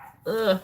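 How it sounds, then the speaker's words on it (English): A single short dog bark or yelp, close and fairly loud, lasting a fraction of a second. "I'm sorry about the barking."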